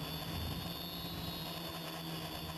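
An Evol Villain RC multicopter hovering a few feet up, its motors making a steady, loud, continuous whine and drone with no break.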